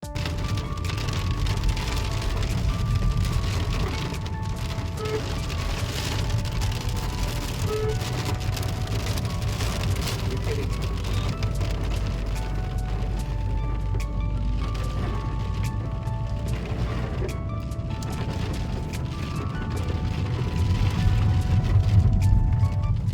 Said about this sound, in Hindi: अब इस टाइम बारिश जो है वो बहुत तेज़ हो गई थी।